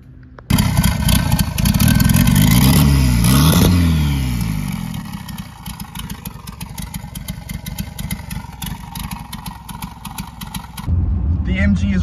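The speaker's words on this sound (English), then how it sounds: "The MG is riding like a dream." A boosted engine in an MGB car pulls hard under acceleration, a loud rising roar that climbs in pitch, eases off into a steadier drone while driving, then swells again near the end.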